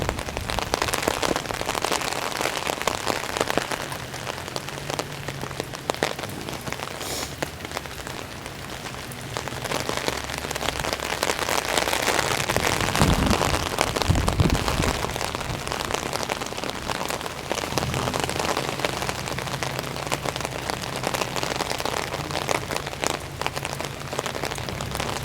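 Heavy rain falling during a walk in Halifax, a dense continuous hiss of drops pattering on surfaces close around, swelling slightly midway, with no voices.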